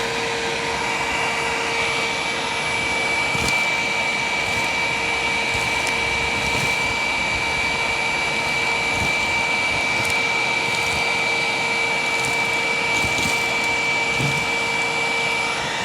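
A purple self-propelled Hoover WindTunnel Plus upright vacuum runs continuously at close range, a steady loud whine with a constant tonal hum and faint rattles of debris being picked up, no talking.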